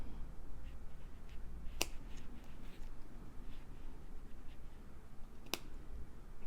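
Scissors snip bracelet string twice, two sharp, crisp clicks spaced a few seconds apart over a quiet background.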